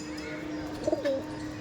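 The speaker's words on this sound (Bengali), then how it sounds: "পায়রা দেখুন ডাক দিচ্ছে দেখুন" A large Saharanpuri pigeon among high-flying Giribaz pigeons gives a short, soft rolling coo, close by and fairly quiet over a steady background hum.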